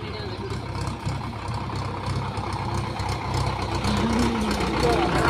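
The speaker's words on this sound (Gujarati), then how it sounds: "અમારા અલ્પેશભાઈ ટ્રેક્ટર ઉપર પાઇપ ભરીને હવે આવી ગયા છે" A tractor loaded with pipes runs steadily with a low, continuous rumbling engine drone near a village temple, heard beneath a voice talking throughout.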